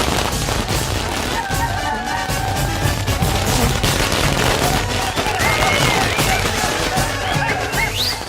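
Loud, continuous barrage of explosions, rapid booming and crackling bangs overlapping one another, with faint whistling tones drifting through.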